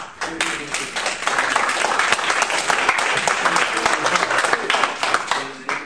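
Audience clapping at a hemp-building talk, a dense, steady wash of many hands that fills the whole stretch at full strength with no gaps.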